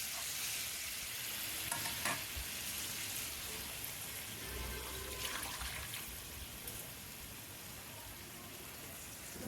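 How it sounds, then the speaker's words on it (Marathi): Dal is poured into hot tempering in a pan and stirred, giving a close, continuous sizzle and bubbling hiss with a few scraping stirs and no talking. "आता हे वरण टाकायचं जरासं घोटून"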